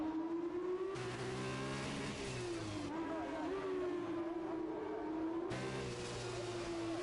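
F1 2021 race cars roar around Monaco as one high, whining engine holds steady and shifts pitch slightly, while other cars join in and fade as they pass, at a low, steady level.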